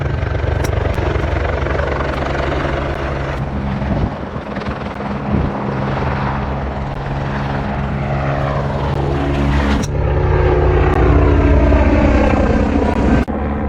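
A firefighting helicopter comes in low over a golf course to scoop water from a hazard, its rotor thudding loud and steady throughout with a shifting, churning engine roar and no voices.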